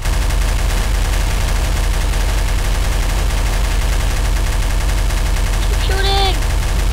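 Dense, continuous gunfire in Garry's Mod's Flood mode, loud and close, with rapid overlapping shots that never pause; a brief shout rises over it near the end.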